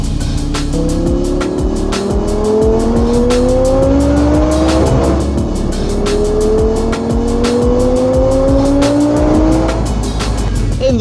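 An Audi R8 GT Spyder on Michelin Pilot Sport 4S or Continental SportContact 6 tyres drives a faster road, its engine loud and close, rising in repeated revving pulls through the gears over constant road and wind roar.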